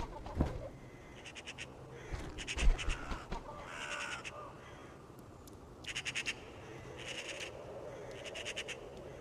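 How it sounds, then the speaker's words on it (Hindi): Crows caw in repeated bursts of harsh calls outdoors in a winter landscape, clustered in short groups with pauses, moderately distant over a low background rumble, with no talking. "कौवा एनिमल किंगडम के सबसे अकलमंद जीवों में से एक है"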